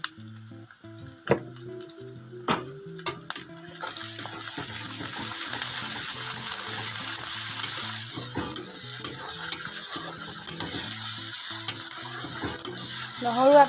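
A spoonful of ground garlic and ginger paste hits the hot oil and browned onions for a chicken dish, a quieter sizzle with a few sharp knocks that swells into a dense, steady frying hiss, backed by music.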